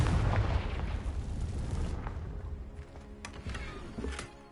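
A Confringo blasting spell in Hogwarts Legacy erupts as one loud, rumbling explosion. The broad roar fades over a few seconds, and a few fainter crackles and pops follow near the end.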